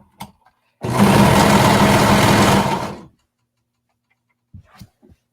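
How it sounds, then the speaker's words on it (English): A sewing machine stitching a waistband onto leggings with a 3/8-inch seam allowance: one loud, close burst of fast, even whirring for about two seconds, bracketed by faint clicks and handling sounds. "now we're just going to sew around to attach the waistband to the leggings."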